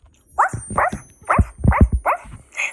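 People imitate a husky dog during a children's Frozen-themed yoga session, giving six short woofing barks in a rhythmic series, close and fairly loud.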